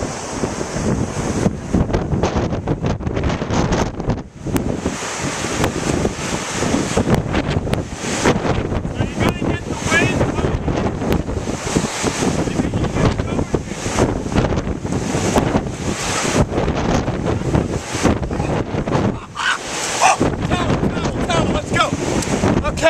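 Strong wind buffeting the microphone on a Pacific Ocean beach, with surf and crashing waves rumbling continuously and loudly, and a voice occasionally talking under the roar.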